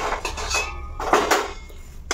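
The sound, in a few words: mixing sweet dough in a pot with a ladle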